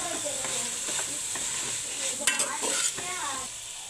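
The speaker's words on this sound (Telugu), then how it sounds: "కొద్దిగా పుదీనా, కొత్తిమీర, ఇది కూడా బాగా కలుపుతుంది." Vegetables with masala powder, mint and coriander for a vegetable biryani are stirred in a sizzling pan, a spoon scraping and clinking against the metal in quick strokes over a steady fry, close up.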